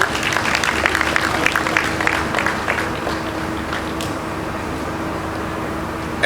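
A steady wash of audience applause for a company CEO at a Lagos industry event, continuous and fairly even throughout with a faint constant hum beneath.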